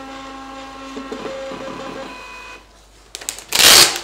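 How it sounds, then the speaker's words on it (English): A small spirometer printer prints test results, whirring with steady tonal hums and quick mechanical ticks, then a short rattling burst of paper feeding near the end. "So the printer's really quick."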